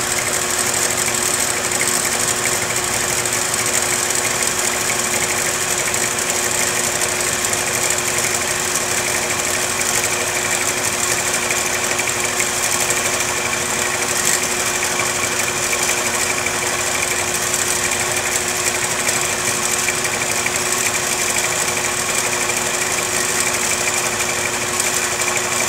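A computerized quilting machine stitches steadily, a constant high-pitched motor whine with rapid needle buzz, unchanging and close throughout, with no voices.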